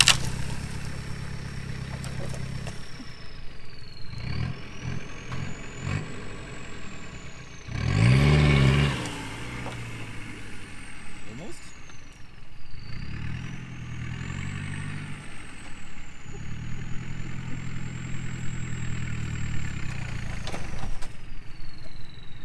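Farm vehicle engine revving and whirring nearby as it backs up and pulls forward through a cleared field, with several rising surges of engine noise and a brief louder burst partway through.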